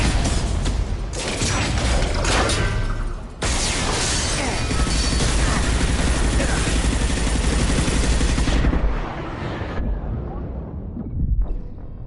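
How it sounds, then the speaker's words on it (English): Heavy weapons fire in Mass Effect Legendary: a dense, sustained roar of gunfire and blasts, loud throughout, with a brief dip near the start and a quieter tail at the end. "Watch for heavy fire."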